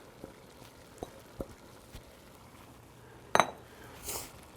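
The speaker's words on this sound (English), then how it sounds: "I'm gonna add my rice into the pot," Rice goes into a pot of liquid and is stirred, faint scattered clinks and scrapes of a utensil against the pot with a brief louder rattle near the end, quiet kitchen background.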